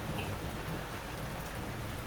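Steady rain falling during a blackout, a continuous dense hiss of drops on surfaces with a faint low rumble underneath, even and unbroken throughout.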